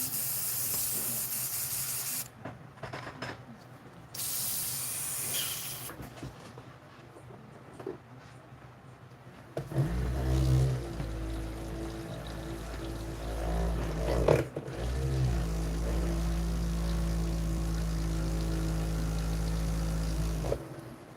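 An airbrush sprays dark olive green wash onto a painted Pikachu figure, heard as soft hissy bursts at first, then a steadier airy hiss over a low compressor hum, close and moderately loud.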